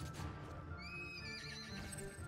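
A synthetic horse neigh effect bursts from a unicorn explosion in Borderlands 2, a bright whinny over thumping hoof-like clatter and busy game sound, loud and close for about two seconds.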